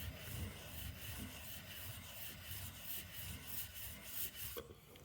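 The flat back of a plane blade is honed on a sharpening stone, giving a steady, close, rhythmic rasping of repeated strokes that continues without pause.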